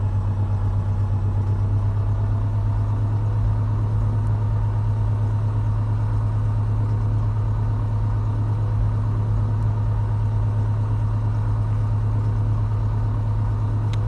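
A single-engine piston aircraft idles steadily while taxiing in a flight simulator, a continuous low drone with a strong deep hum that holds even and unbroken throughout, with no voices.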